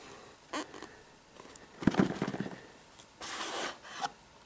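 Plastic back case of a Google Nexus 7 tablet being pried and popped open after two strips of tape are cut, giving close scraping and rubbing, a sharp crackly burst of clicks midway, then another rough scrape.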